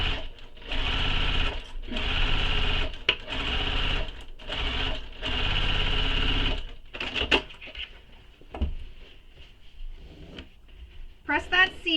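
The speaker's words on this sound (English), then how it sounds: "sew this with the seam allowance given in the pattern" A sewing machine stitches a handbag seam in repeated loud, buzzing runs of a few seconds each, separated by short pauses, then gives way to quieter handling clicks and fabric rustles; a voice talks over parts of it.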